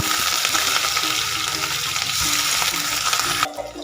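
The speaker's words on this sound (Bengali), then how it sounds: "এখানে আমি একটা বড় সাইজে পেঁয়াজ কুচিয়ে রেখেছি সেটাকে আমি এর মধ্যে তেলের মধ্যে আমি দিয়ে দিচ্ছি" Chopped onion tipped into hot oil with panch phoron bursts into a loud, steady sizzle that fills the clip, with faint stirring, then drops off abruptly near the end.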